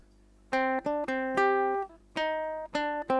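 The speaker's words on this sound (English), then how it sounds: "But if I play the same thing but in a minor scale, it'll sound like this." A short melody in a minor scale of sustained synth-like tones, one note at a time with distinct pitch changes, played alone with no talking.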